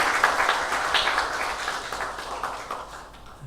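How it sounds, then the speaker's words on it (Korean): A chapel congregation at a university service applauds at moderate volume, a dense patter of many hands that thins out toward the end. "우리 모두 감사의 박수 하겠습니다."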